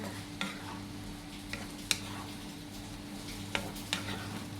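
Bottle gourd and egg are stir-fried in a pan, with a quiet sizzle and occasional sharp scrapes and clacks of the spatula against the pan, heard alone without voices.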